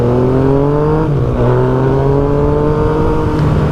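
A 2016 Yamaha FZ-09 triple-cylinder motorcycle engine drones loud and close, its pitch climbing smoothly as the throttle rises under way.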